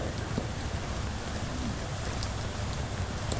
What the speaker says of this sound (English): the rain seems to be lightening up a little bit more tolerable